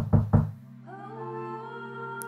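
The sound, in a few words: knocking on a door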